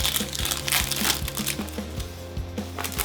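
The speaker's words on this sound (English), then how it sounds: "Cellophane is quite cheap feeling. I mean, listen to that." Cellophane wrapper on a Ted Lapidus Oud Noir fragrance box crinkles and crackles close up in a dense, continuous rustle, with sharper snaps throughout and a low background hum underneath.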